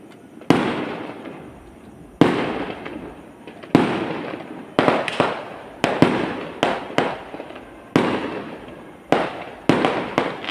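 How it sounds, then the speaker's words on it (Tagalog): Fireworks burst repeatedly at a lighting ceremony display in San Nicolas, Pangasinan, about a dozen sharp booms each trailing off into a crackling decay, some close together, moderately loud at a middle distance. "Ang ganda ng fireworks, no?"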